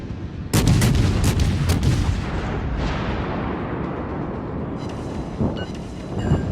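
Heavy naval guns fire in World of Warships: a loud salvo of sharp, booming blasts in quick succession, followed by a long rumbling tail and a few fainter distant bursts near the end.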